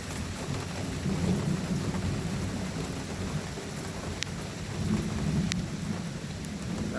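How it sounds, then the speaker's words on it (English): Steady rain pours down outdoors during a thunderstorm, a constant wash of drops with low rumbling thunder swelling and fading beneath it and a few sharp ticks on top; no one speaks. "Rain coming down on me a little bit here."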